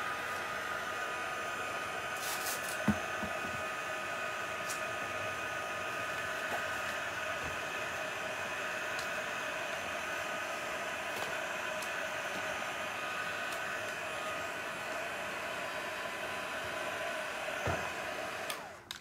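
Steady, loud whoosh of a heat tool blowing hot air to dry acrylic paint on a junk journal page, running continuously and close up with no talk.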